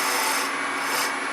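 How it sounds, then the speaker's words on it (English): Wood spindle, a small piece supported at both ends, spinning on a lathe while being turned down at the end, giving a steady broad rasping, rubbing hiss that holds on continuously throughout at close range with no talking. "I want to turn it down here on the end. Turn it down a little bit."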